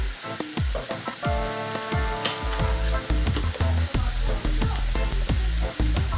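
Soy sauce hits a hot pan during a Hakka-style chicken and capsicum stir-fry, giving a steady loud sizzle broken by repeated clanking stirs and scrapes of a spatula, close and continuous with no talking.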